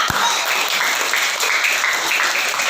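A classroom of pupils claps for a student in a religious studies lesson, steady loud applause sustained throughout with no gaps, close and filling the room.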